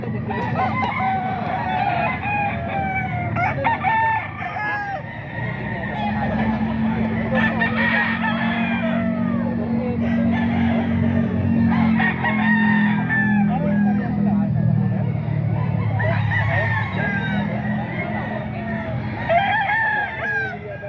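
Gamecocks crow repeatedly at a rooster market in Grotto, with several overlapping cock-a-doodle-doos near and far, scattered clucks, and a low background hum under occasional talk.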